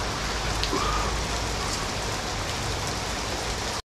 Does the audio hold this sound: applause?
no